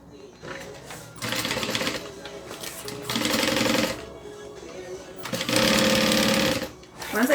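A sewing machine stitches a Denver backpack in three rapid mechanical bursts of growing length, separated by pauses, with a voice talking between and under the stitching.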